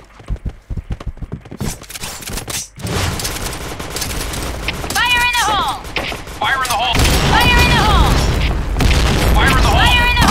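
Grenade blasts in the shooter game Point Blank, heavy booming bursts over a dense mix of gunfire and game noise, with a quick clicky stretch at the start and voices mixed in.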